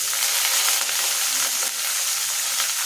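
Curry leaves and onions sizzle in hot oil already crackling with chana dal, urad dal and mustard seeds, a dense, steady frying hiss with faint stirring scrapes, close and alone without voices.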